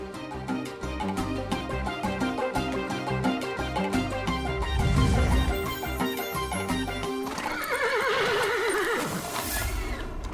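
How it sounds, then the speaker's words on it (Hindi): Horses in a royal stable whinny loudly and repeatedly while hooves clatter and stamp, layered under dramatic background music, with a long, shrill neigh near the end. "ये अचानक घोड़े भिदक क्यों रहे हैं?"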